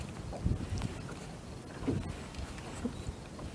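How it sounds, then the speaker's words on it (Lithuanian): Gusty wind at a lake during a fishing outing, rumbling steadily across the whole stretch with a few stronger buffets, no talking. "Vėjuota šiandien."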